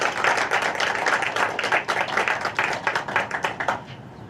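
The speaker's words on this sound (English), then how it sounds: "please get one more round of applause" Audience applause at a school board of education meeting: a dense, steady crowd clapping that holds strong for several seconds, then thins into scattered claps as it tapers off near the end.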